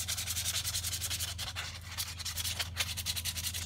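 Sandpaper rubbing rapidly back and forth over the steel hammer side of an axe head, a close, continuous rhythmic rasping with no speech.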